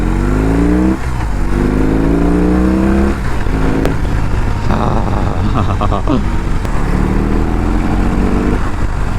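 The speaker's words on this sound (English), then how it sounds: "Okay, let's rev it a little bit." A big 1800cc motorcycle engine revs in several rising pulls, each climbing in pitch and falling back to a throaty idle. It sounds close and loud, with people talking over the engine.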